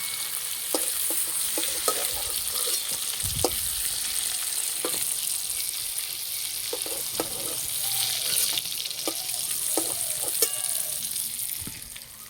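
Pointed gourd frying in hot oil gives a steady, close sizzle throughout, with scattered stirring clicks and utensil taps and no talk.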